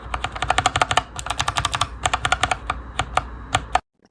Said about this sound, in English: linear switch, tactile switch, how the switches sound on the board